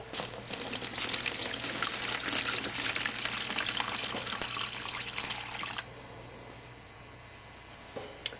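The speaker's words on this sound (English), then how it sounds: "you put some water in there" Steady rushing and splashing of water being poured into a jewelry-cleaning machine, filling loudly for several seconds before dropping to a quieter trickle and hum.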